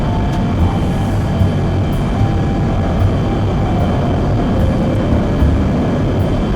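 A 1950s-built, non-American plane climbing vertically in X-Plane 11, its engine a loud, steady, dense roar with low rumble and a faint high whine, continuous throughout.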